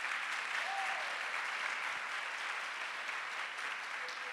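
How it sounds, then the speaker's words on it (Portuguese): A church congregation applauding, a dense continuous wash of clapping that holds evenly at moderate loudness throughout with no pauses. "Pode aplaudir agora."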